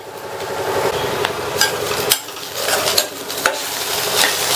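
Ivy gourd (kovakkai) poriyal stirred in a pan, a scraping spoon with repeated clacks against the metal about once per second over a soft sizzle, close and alone.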